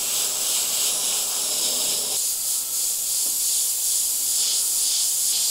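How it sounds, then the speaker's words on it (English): An airbrush sprays paint, giving a continuous close hiss that stays steady for several seconds with no talk. "I'm bringing my airbrush in a bit closer, just so I can control some of that overspray"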